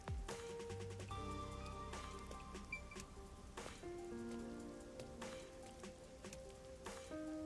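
Rain falling in the video game Rain Code, a faint steady patter of drops beneath a background music score with sustained tones and soft chimes.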